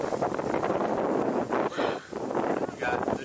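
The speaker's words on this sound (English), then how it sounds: "It's a little windy." Wind buffets a microphone outdoors in loud, rough gusts that rise and dip in quick surges, with a brief lull partway through.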